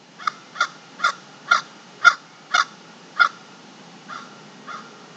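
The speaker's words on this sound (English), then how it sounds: "it's like that bird was yelling at me." A crow caws loudly and nearby, about nine harsh calls in an even rhythm, the last two fainter, with no other sound.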